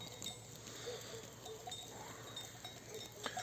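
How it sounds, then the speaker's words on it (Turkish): Yearling sheep in a clover field, faint bleats and a clinking bell over a quiet, steady outdoor background at a distance. "Bunlar bizim toklular."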